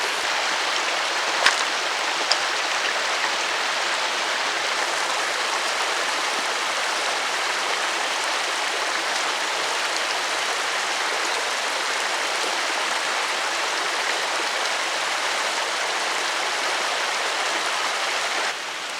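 A stream in cold, icy woodland flows with a constant bright rushing and splashing. The sound is steady, close and fairly loud, with no voices over it.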